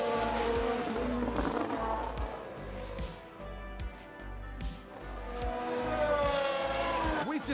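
Racing cars whine and roar through a replay of a car spinning out in the F1 Manager 22 video game, with engine notes rising and falling, several quick passes and a steady, dense mechanical drone throughout.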